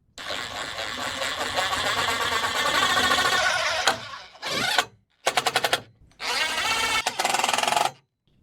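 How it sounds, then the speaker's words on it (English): A power drill drives number 12 three-quarter-inch self-tapping screws into the metal frame of a 2003 Club Car golf cart during a solar panel install. A long loud whirring run gives way to several shorter bursts of drilling with brief pauses between them. "I'm going to be using number 12 3/4 inch self-tapping screws."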